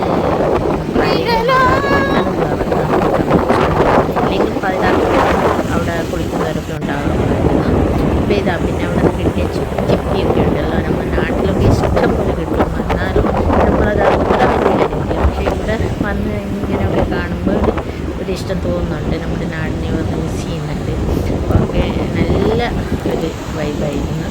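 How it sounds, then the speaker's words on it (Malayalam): Strong wind roars against the microphone at sea, with a constant heavy rush and rumble, water noise beneath and a voice talking through it. "ഇത്രയും കാറ്റ് പ്രതീക്ഷിച്ചിട്ടുണ്ടായിരുന്നില്ല"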